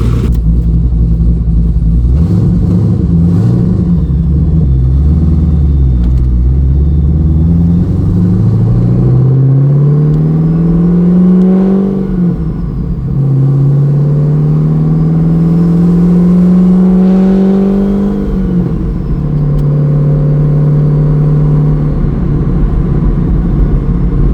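A loud twin-turbo 1100 hp Corvette C6 Z06 engine roars steadily up close, its pitch climbing through several gear-like sweeps and dropping back, with constant road and exhaust drone throughout.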